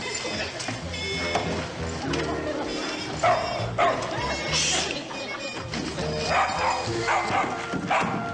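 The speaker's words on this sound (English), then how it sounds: "This dog should be in bed." A dog in a TV drama series yips and whimpers repeatedly over a busy soundtrack, with speech from people mixed in throughout.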